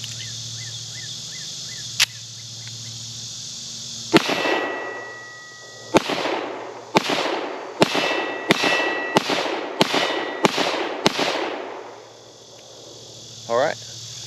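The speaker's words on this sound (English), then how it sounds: "Let's get back to shooting." Keltec PR57 pistol firing a string of about nine sharp, loud shots outdoors. The first two come as isolated reports, then the rest follow in a steady rhythm with short reverberant tails.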